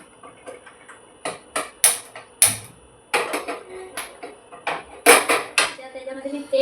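A metal pot for tempering handled on a kitchen counter gives a series of close, sharp clinks and knocks of metal on metal, irregular and bright, with a few louder clanks among lighter taps.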